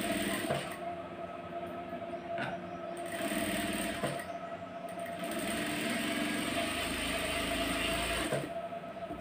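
A sewing machine running steadily as it stitches finishing along the top of a tuck on a shape belt, a continuous mechanical whir with periodic clicks, close and alone.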